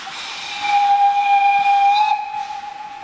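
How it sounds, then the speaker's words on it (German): Narrow-gauge superheated steam locomotive 99 6101 of the Harz railway, a 380 hp engine, gives a long, loud, steady whistle with hissing steam as it starts its train, the tone shifting slightly near the end, no voices. "Unter äußerster Anstrengung bringt die kleine Heißdampflok 996101 mit ihren nur 380 PS den Zug wieder in Fahrt."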